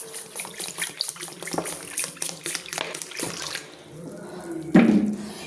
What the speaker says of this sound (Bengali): ভালো করে চটকে আমি ধুয়ে নেব।